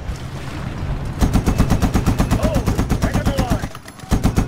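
Rapid automatic gunfire in the video game Medal of Honor (2010), a loud, steady burst of repeated shots that briefly pauses and then resumes.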